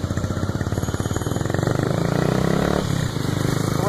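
A 50cc motorcycle engine runs close and loud with a rapid, rattling putter that smooths into a steadier drone, heard alone without talking.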